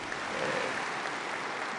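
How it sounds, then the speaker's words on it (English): Audience applause at an economic forum plenary session in a large hall, a dense even sheet of clapping at moderate volume, steady and unbroken for the whole stretch. "I ask for a hearty round of applause from everyone here in support of this."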